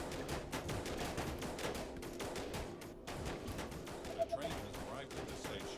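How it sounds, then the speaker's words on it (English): Sniper rifles and other colony guns fire in a steady, dense volley of sharp cracks against an infected horde in the strategy game They Are Billions, a loud rapid fusillade throughout with a few brighter pops near the end. "The snipers should take out the spitters before they get too many shots off"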